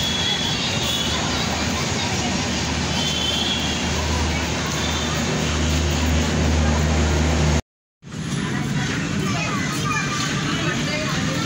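A toy train starting up and running at a Ganesh temple in Dombivli East, a loud continuous motor hum with rumble under steady crowd and children's chatter, briefly cut off near the end.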